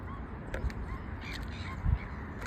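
Many birds call from a large flock, with crow-like caws rising over a steady, distant chatter of outdoor noise and faint low rumbles.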